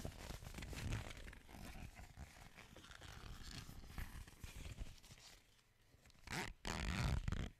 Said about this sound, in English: I love the sound of zips